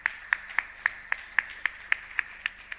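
Hands clap at a steady, even rhythm, about ten crisp claps close by and fairly loud, with no wider crowd applause, in a conference hall after an agricultural data panel.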